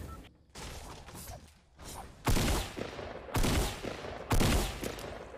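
Three loud, sharp bursts of gunfire from a video game skirmish, each with a sudden onset and a brief ringing tail, spaced about a second apart over a quieter rumbling background.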